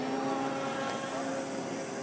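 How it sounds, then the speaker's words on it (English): A FlightLine RC F7F Tigercat 1600mm twin-engine electric warbird model airplane flies past at a flying event, giving a steady, fairly loud propeller and motor whine with a constant tonal hum throughout. "Flying airplane."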